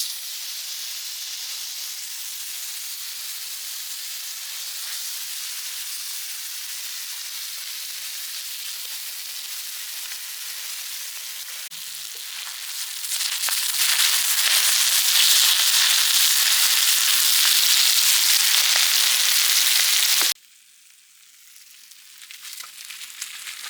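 Chicken pieces sizzle and fry in hot oil on a dosa griddle, village-style cooking for Arabian chicken mandi biryani; a steady loud hiss swells louder midway, then cuts off abruptly and quietly builds again, with no voices.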